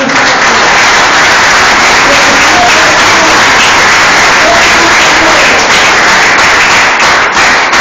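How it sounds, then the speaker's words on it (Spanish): Church congregation applauding during a Spanish-language sermon, a loud, dense and sustained roar of clapping that holds steady throughout with no break. "Ten un fuerte aplauso a Cristo."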